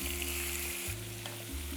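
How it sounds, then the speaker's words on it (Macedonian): Pieces of pork sizzle in heated oil in a pan with caramelized onion and browned carrots, a close, steady frying hiss with a low hum underneath and no voices. "Го зимам месото и ќе го ставам да се пржи во загрееното масло."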